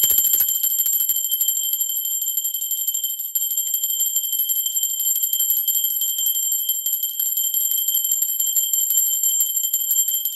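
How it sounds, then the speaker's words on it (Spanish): A bell rings during a spiritual meditation, holding one bright, steady ringing tone that sustains at an even level for about ten seconds with no talking. "Ahora sí va campana"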